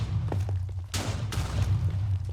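Explosions go off in the Minecraft survival game, two sharp broadband blasts about half a second apart that stand out over a constant low background hum.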